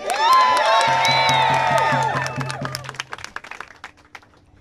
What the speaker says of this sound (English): Teachers, Let's clap for our students.